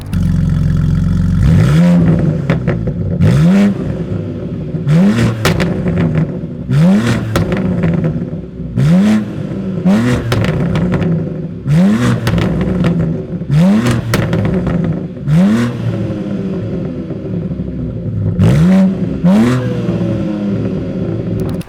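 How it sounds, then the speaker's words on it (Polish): A BMW M3 G80 with a tuned sport exhaust revs repeatedly, each throttle blip rising sharply then dropping, with crackling exhaust pops between, loud and close. "jak rewelacyjnie brzmi ten układ wydechowy"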